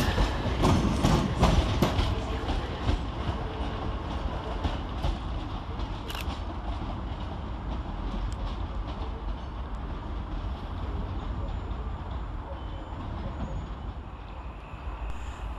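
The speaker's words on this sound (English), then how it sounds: "departing in the opposite direction is 318-266 and 318-320-312, working the 1437 ScotRail service to Motherwell via Mount Vernon" ScotRail class 318 electric units, 318-266 and 318-320-312, pulling out of Glasgow Central on a Motherwell service via Mount Vernon; a steady low rumble of moving carriages with a few sharp clicks near the start, continuous and fairly close.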